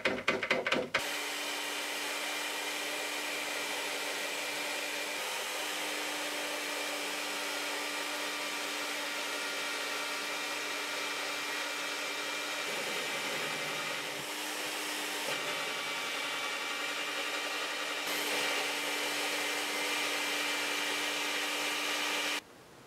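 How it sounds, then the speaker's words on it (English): A drill boring a small 2.5mm pilot hole while building a heavy-duty wire bender, running as a steady, loud whine with a constant hum throughout, with no speech. "I'll start out by drilling a smaller hole and then make a bigger hole after that."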